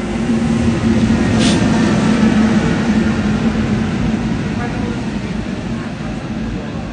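A train rumbles past close by, a loud continuous roar with a steady low drone and a brief high squeal near the start, gradually easing off toward the end.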